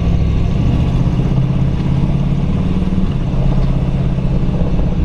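A 1937 Buick Special four-door sedan resto-rod with a torquey 440 engine drives on a sunny day in Havasu. Its steady, loud, low engine drone runs throughout, with a slight change in pitch partway through.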